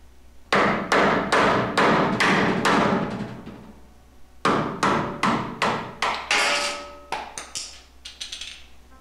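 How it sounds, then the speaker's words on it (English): A screwdriver is driven against the rear seal of an automatic transmission's extension housing to break it loose, producing loud, rapid metallic strikes in two long bursts with a brief pause between them. "use a screwdriver and break the seal away from the extension housing"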